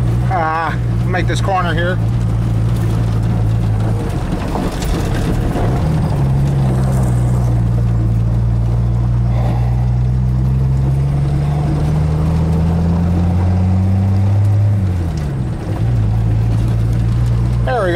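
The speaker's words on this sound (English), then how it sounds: "Cruising on a Ford F-150, an 85" 1985 Ford F-150 pickup with a 300 six-cylinder engine driving: loud, close low engine drone with gear-change dips and pitch swells as it pulls and cruises, while someone talks over it.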